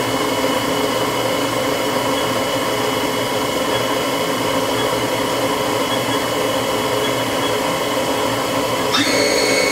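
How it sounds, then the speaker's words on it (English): A 1998 Haas HS-1RP machine spindle runs with a steady, loud, dense whine and rushing hum, then near the end its pitch climbs abruptly as the speed ramps up; no one talks. "Right now I'm running the spindle at 1500 RPM, so we'll go ahead and we'll ramp that up a little bit"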